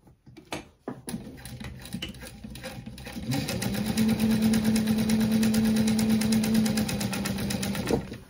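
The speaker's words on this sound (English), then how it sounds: "I'm going to sew this into place" A sewing machine stitches backpack fabric into place for about five seconds, a close, steady whirring buzz, preceded by a few handling clicks and knocks as the fabric is positioned.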